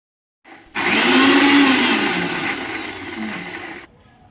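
A kitchen mixer grinder blends masala paste with water, its motor kicking in abruptly with a loud, steady whirring roar that runs about three seconds before cutting off.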